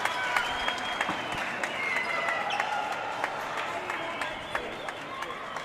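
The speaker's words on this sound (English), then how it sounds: "The crowd loving it." Crowd applauding at a racquetball men's doubles final between Mexico and Bolivia, with sustained clapping and cheering throughout and a commentator talking over the noise.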